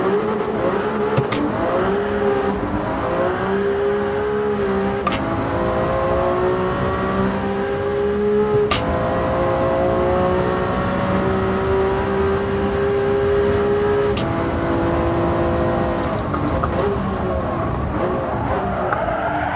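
Race car engine in the Gran Turismo 7 racing game, revving loudly and continuously with repeated rising pitch sweeps as gears shift, steady and close throughout.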